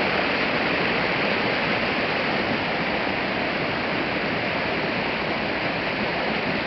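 Loud, steady rushing water of the Meléndez River roars without pause at an aqueduct intake, a dense broadband torrent close by with no voices.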